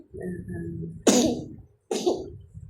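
A person coughing twice, close and loud, each harsh burst sharp at onset and then trailing off, after a stretch of low voiced throat noise.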